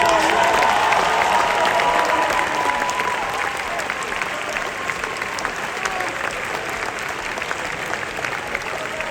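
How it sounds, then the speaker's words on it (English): Graduation ceremony crowd gives a sustained round of applause for a graduate, a dense wash of many hands clapping at steady volume for the whole stretch, easing slightly after the first few seconds. "Give him a round of applause, Joshua."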